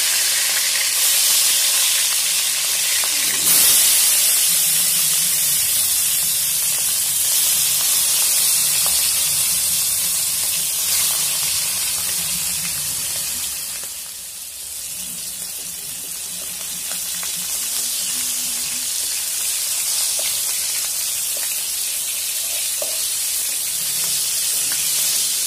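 Pieces of rui fish fry in hot oil, giving a loud, steady hiss and sizzle that carries on close and continuous throughout, easing slightly midway before building again.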